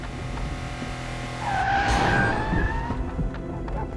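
Tires squeal as a car skids in a video game, a rising screech that swells over a steady engine drone and then trails off, with no talking.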